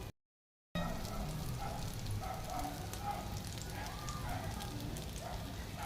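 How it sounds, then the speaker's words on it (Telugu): Potato cutlets frying in a little oil in a pan, a steady close crackling sizzle that continues after a brief silent gap at the start. "కొంచెం ప్యాన్ మీద ఆయిల్ వేసి ఇలా వేసేయండి."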